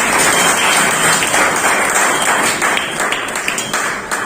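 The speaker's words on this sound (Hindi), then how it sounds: "थोड़ा सा ताली बजा दीजिए" Audience applause at an Independence Day event at a study center, a dense, steady wash of many hands clapping that holds loud and then slowly thins out.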